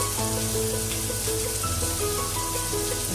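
Chopped onion sautés in oil in a frying pan, giving a steady, close sizzle throughout while quiet background music plays underneath.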